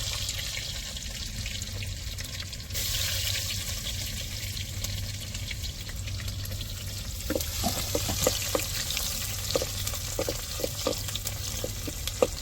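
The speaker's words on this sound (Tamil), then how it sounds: "பூண்டை நான் பொடிசாக நறுக்கி வச்சுருக்கிறேன். அதை எண்ணெயில் இப்போ சேர்த்துருவோம்." Finely chopped garlic goes into hot oil for tempering, part of a dried-fish thokku dish, and gives a steady sizzling hiss that grows into sharper crackles and pops, close and continuous.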